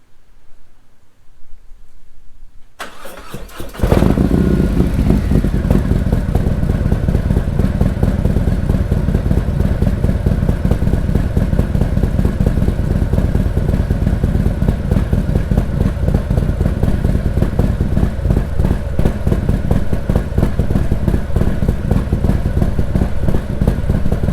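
A motorcycle fitted with SuperTrapp Fatshots open exhaust pipes starts up and settles into a steady, deep, loud idle that runs continuously, close by and alone with no talking.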